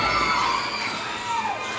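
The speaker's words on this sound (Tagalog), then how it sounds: "May crowd din sila. Nagsisigawan din." Crowd at a 17-and-under school basketball division meet qualifier shouting and cheering, a dense continuous roar of young voices filling the gym at steady loudness.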